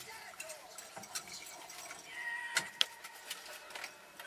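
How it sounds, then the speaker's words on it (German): A whisk stirs a sauce with cream in a pan, making a steady, fairly faint scraping and swishing with light metallic clinks of wire against the pan and a couple of sharper taps, heard alone. "Nehme ich jetzt einen Schneebesen und rühre das"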